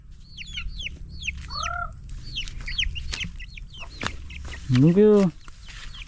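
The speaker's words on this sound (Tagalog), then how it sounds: "Ayun, yung dalawang sisiw." Two baby chicks peep near a mother hen at a rural farm hut, high repeated cheeps alongside hen clucks, with a person talking softly over them.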